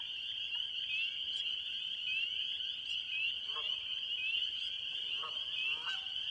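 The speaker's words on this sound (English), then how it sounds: "So peepers are the big ones we're hearing." A chorus of spring peepers fills a Wisconsin marsh with a continuous shrill, ringing drone, a few sharper individual peeps and honk-like calls popping out of the steady wall of sound.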